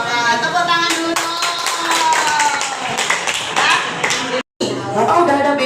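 Group handclapping in a therapy session, a dense run of claps mixed with talking voices and a bright ringing tone throughout, loud and close, with a brief dropout near the end.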